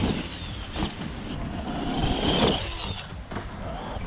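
An ARRMA Gorgon 1/10 two-wheel-drive RC truck is driven hard, its electric motor whining up and down in bursts, with tyre scrabble and knocks from the chassis, close by and alone.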